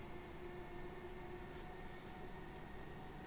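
Steady, low rumble of a Thameslink train running through tunnels toward St Pancras in Train Simulator 2020, a continuous droning hum with no voices and no distinct events.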